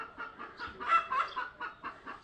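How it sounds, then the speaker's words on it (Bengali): A hen clucks after laying an egg in a short series of close, rhythmic clucks, with one louder burst in the middle. No one speaks. "আমার মুরগি ডিম পাড়া বের হলো।"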